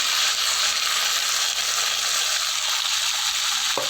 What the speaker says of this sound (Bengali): দেখো পেঁয়াজটা লাল হয়ে গেল এখন টমেটোগুলো ঢেলে দিলাম